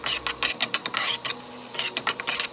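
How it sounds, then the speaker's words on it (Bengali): Three beaten eggs are stirred in a pan into scrambles, a quick irregular run of utensil scrapes and taps against the pan over a faint sizzle. "এই তিনটা ডিম ফেটে একসাথে দিয়ে দিচ্ছি, নাড়াচাড়া করে স্ক্রাম্বল বানিয়ে নিচ্ছে"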